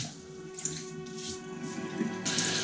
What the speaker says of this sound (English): I usually wet the brush with the hottest water I can get